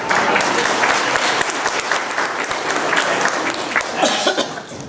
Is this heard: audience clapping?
yes